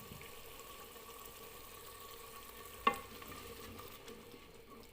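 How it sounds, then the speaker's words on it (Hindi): Cauliflower masala in a pan with a cup of added water being stirred, a steady low sizzle and watery bubbling throughout, broken by one sharp clink of the spoon against the pan midway; no voices. "थोड़ा सा इसको हिला देते हैं"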